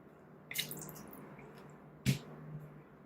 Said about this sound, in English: it's really getting hard to stir